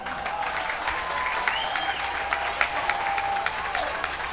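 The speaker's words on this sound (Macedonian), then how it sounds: "Голем аплауз за нив." An audience at a talent show applauds a band with dense, steady clapping that holds at an even level throughout.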